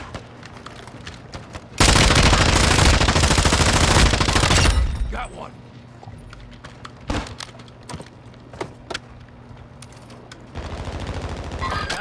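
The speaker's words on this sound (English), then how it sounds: "I hear him shooting you up." Automatic fire in a video game shootout roars in a loud, continuous stream for about three seconds, then gives way to scattered single shots and softer game noise, with a voice talking over parts of it.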